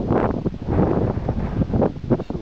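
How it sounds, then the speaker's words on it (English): Gusty wind buffets the microphone on a mountainside about 900 metres up, a steady, loud rumbling roar with rustling swells and no talk. "A bit blowy up here."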